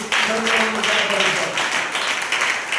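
A church congregation clapping together in a steady rhythmic beat, a broad wash of many hands with a voice faintly underneath.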